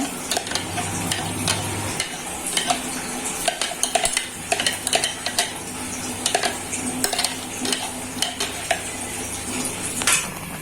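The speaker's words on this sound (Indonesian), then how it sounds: "Ini saya masukkan untuk nasi yang sudah saya blender." Blended rice being stirred into heated water in a pot, with repeated scraping and clinking of a utensil against the pan and a low simmering hiss, close and steady with no talking.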